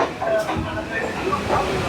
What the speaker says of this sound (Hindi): बीबीडी बाग हमारी ट्रेन पहुंच चुकी है।